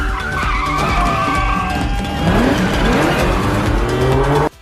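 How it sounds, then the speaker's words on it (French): A car skids and spins in a circle under full throttle, its tires squealing loudly in rising and falling sweeps over a roaring engine, close and continuous until an abrupt stop. "Puis je recule, appuie à fond sur l'accélérateur et fais glisser la voiture pour la faire pivoter en cercle."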